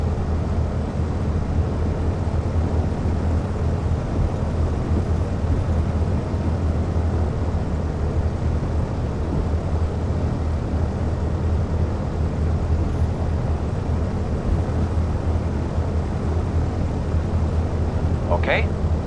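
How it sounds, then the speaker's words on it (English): A twin-engine Diamond DA42 taxis in the Flight Sim World game, its engines giving a steady low drone with a constant hum throughout, unchanging and moderately loud. "Taxiing a twin is no different than a single-engine airplane."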